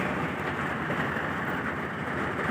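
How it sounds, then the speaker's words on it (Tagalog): Thunder rumbles low and continuous under steady rain during a delivery trip in Cabuyao, Laguna, forming a dense, even wash of rainfall with a deep rolling undertone and no voices. "kumakulog-kulog-kulog pa oh"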